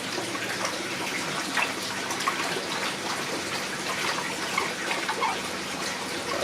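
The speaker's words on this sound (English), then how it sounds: "give it a good rinse in here again" Cane toads rinsed under running water in a sink or tub, a steady splashing gush of flowing water with small splatters, close and continuous, without talk.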